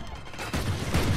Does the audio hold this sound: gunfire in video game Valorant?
yes